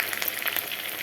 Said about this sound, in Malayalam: നമ്മൾ തിരിഞ്ഞു വെച്ച ചിക്കൻ ഫ്രൈ ചെയ്തുകൊണ്ടിരിക്കുക കേട്ടോ